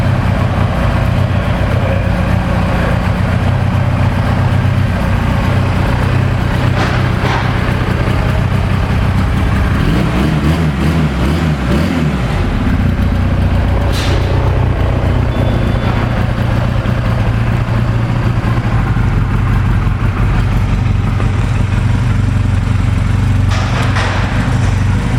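A used 2008 Honda CMX250 Rebel motorcycle idles steadily and loudly close by after warming up, a constant engine rumble with only small shifts and no talk.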